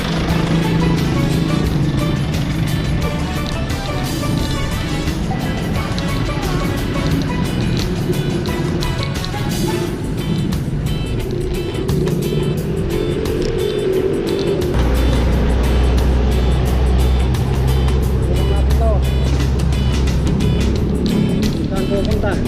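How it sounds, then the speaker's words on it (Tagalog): Midday road traffic in Dagupan City, a loud, continuous wash of engines and passing vehicles with low rumbling idling, heard close by under steady talking. "Tignan natin kung gaano ka-traffic ang Dagupan pag tanghali."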